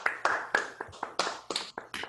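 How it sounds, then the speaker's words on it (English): A few participants in an online meeting clap over unmuted microphones, producing sparse, uneven sharp claps in quick irregular bursts, close and fairly loud, with no crowd blend. "So if it's possible to unmute everybody to applaud for them, that would be really great"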